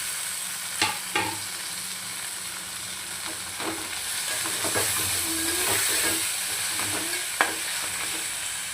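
Mutton paya sizzles steadily in a pan as tomatoes go in, with a few sharp clinks and scrapes of stirring over a constant frying hiss.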